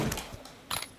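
A gun being reloaded at a shooting range, heard as two quick bursts of close mechanical clicking and ratcheting a fraction of a second apart, with no talk.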